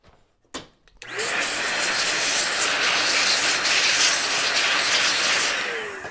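A strong burst of compressed air blowing off a CPU board hisses steadily for about five seconds after a couple of brief knocks, close and loud with no speech.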